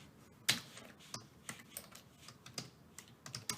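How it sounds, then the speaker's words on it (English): Typing on a computer keyboard during Python coding: irregular, sharp key clicks, close but quiet, with one louder keystroke near the start and spaced taps after it. "So I'm just going to type in"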